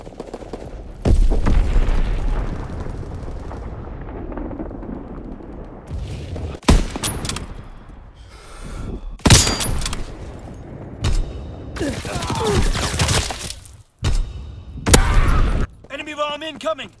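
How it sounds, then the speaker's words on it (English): Bombing and gunfire in Call of Duty WWII during a strafing run and Azon bomb mission: repeated loud blasts and bursts of shooting break out every few seconds over a rumbling battlefield, with game voices calling out between them. "Strafing run inbound. Azon bomb mission underway."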